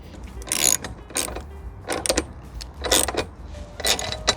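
Metal fittings of a crash bar on a Honda NC750X rattle and ratchet in short bursts as the bar is tightened, close and fairly loud with pauses between.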